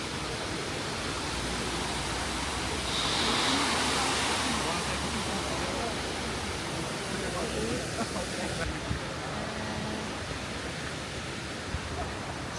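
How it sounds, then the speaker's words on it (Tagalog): Golden Waterfall in Ruifang, Taiwan, a broad, steady rushing roar of falling water filling the scene, continuous and fairly loud with faint background sounds. "So ito yung Golden Waterfall."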